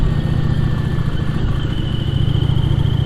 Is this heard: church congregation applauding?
no